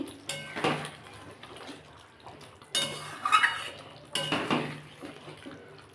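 Metal spoon scraping and clinking around a cooking pot while ghee and garam masala are stirred in, with three separate bursts of stirring separated by quieter gaps, close and fairly clear.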